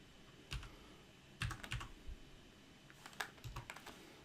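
Computer keyboard typing while editing a document in a word processor: a few quiet, scattered keystroke clusters with short pauses between them, no voices.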